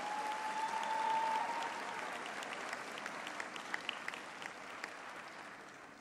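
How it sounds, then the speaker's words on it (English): Sustained applause from the audience at a university faculty graduation ceremony, steady dense clapping filling the hall, swelling slightly early on and then slowly tapering with a few sharper individual claps standing out. "Give a big round of applause to their parents,"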